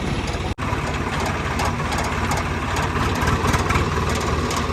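A tractor engine idles with a steady low, rumbling chug, close and continuous throughout, with a brief dropout near the start.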